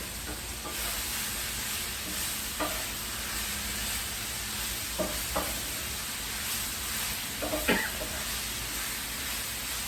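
Mushrooms sizzle in a pan with a steady hissing fry. A few light clinks and scrapes of stirring rise above it now and then.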